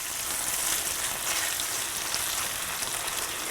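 Chicken thigh pieces stirred and browning in a hot frying pan, a steady close sizzle and crackle of fat running throughout with no voices.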